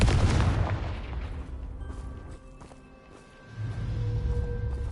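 A Confringo blasting curse goes off in the video game Hogwarts Legacy, a heavy booming blast that roars up at once and then decays into a rumbling tail with faint magical ringing, before a second low rumble swells back near the end.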